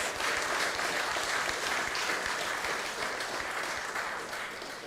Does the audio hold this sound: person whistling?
no